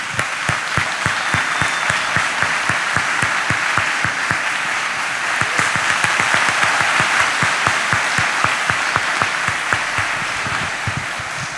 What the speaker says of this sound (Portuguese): vamos aplaudir essas pessoas